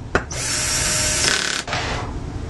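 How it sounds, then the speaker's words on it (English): An electric drill spins for about a second and a half, loud and close, as it tightens screws while assembling a hexapod swing, starting with a short click and ending in a brief rattle. "I use my total electric drill."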